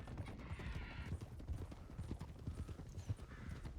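Horse hooves clip-clopping steadily at a riding pace in a Western ranch roleplay video game, close and clear, with faint background ambience and no talking.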